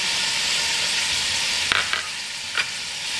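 Turmeric and spices frying in hot oil in a pot for chicken biryani make a loud, even sizzle right up close, broken by a few brief scraping stirs near the end. No one speaks.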